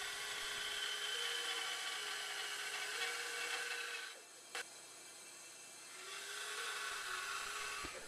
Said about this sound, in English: I remove some of the waste at the bandsaw.